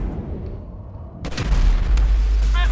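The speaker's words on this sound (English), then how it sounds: "There's guys shooting at you" Enemy gunfire in the video game GTA 5: after a quiet, muffled stretch, heavy booming shots and bursts break in loudly and continue as a dense, rumbling volley.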